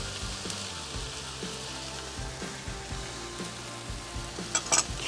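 Ginger and garlic stir-frying with beef in a pan for a Chinese beef cauliflower stir fry: a continuous close sizzle broken by rhythmic scraping strokes of a spatula and a few sharp clicks near the end.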